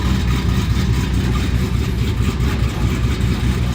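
A 1958 Plymouth V8 with an unfinished exhaust idles close by, a loud, steady low rumble with a lumpy, throbbing pulse and no voices over it.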